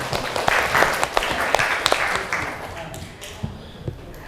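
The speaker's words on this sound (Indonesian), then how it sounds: "Tepuk tangan untuk Yara." Students in a classroom clap for a classmate, a lively burst of many hands with sharp individual claps that thins out and fades toward the end.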